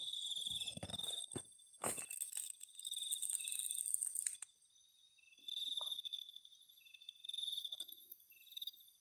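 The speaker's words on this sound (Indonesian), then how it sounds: "Suara jangkrik." Crickets chirp steadily at night in high, shrill trills that pulse in uneven bursts, fairly close and soft, with a few scattered knocks and rustles early on and no talking.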